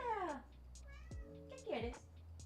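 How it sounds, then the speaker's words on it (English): A cat meows in the background, several drawn-out, falling meows spread across a couple of seconds, fairly close and clear, with voices talking in the room around them. "I hope you guys enjoy the meows in the background."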